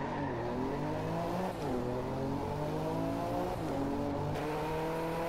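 Car engine in the Driveclub racing video game, heard from the cockpit: a loud, continuous engine drone climbs steadily in pitch, then drops sharply at two gear shifts and climbs again.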